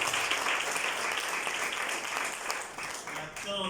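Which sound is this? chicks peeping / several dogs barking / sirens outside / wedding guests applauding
wedding guests applauding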